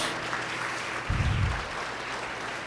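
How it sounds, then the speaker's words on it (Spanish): A church congregation applauds after being urged to clap for God, a broad steady wash of hand claps filling the whole moment with a brief low thump midway. "Dale un aplauso fuerte a Dios"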